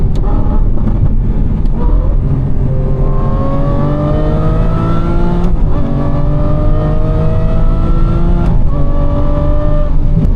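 An Aston Martin V12 Vantage engine accelerates hard, its rising whine climbing through gears in loud sweeps, heard from inside or very near the car.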